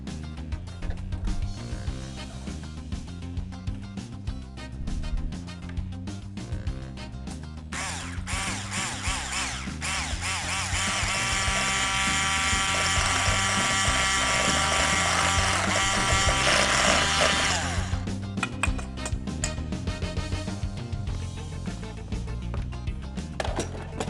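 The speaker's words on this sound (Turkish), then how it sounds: "Bunları güzelce çırpıyorum." Yogurt is whisked briskly in a bowl for soup, a steady scraping churn that grows louder and busier midway before easing back, with no talking.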